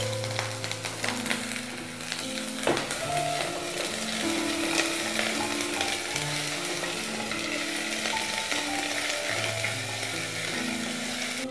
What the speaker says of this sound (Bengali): আদা রসুনটা ভাজা হয়ে যাচ্ছে।